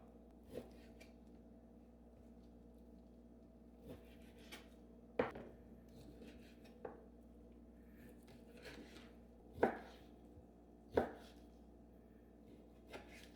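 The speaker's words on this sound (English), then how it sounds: "We're going to take the New York strip steaks out. We're going to cut off the excess fat right there. And we're going to slice them up." A knife slicing New York strip steaks on a board, a handful of sharp, separate cuts and taps spaced seconds apart in a quiet kitchen, faint between strikes.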